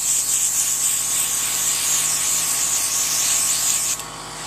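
An airbrush sprays fantasy makeup with a continuous close, loud hiss that holds steady for about four seconds before cutting off abruptly, leaving a fainter background.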